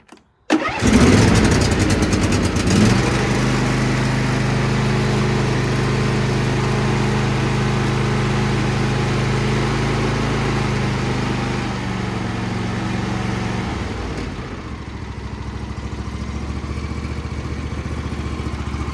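A John Deere D140 lawn tractor engine cranks, starts and settles into a loud, steady idle that drops slightly near the end, running alone without talk, after a clogged fuel pump screen was fixed for a surging issue.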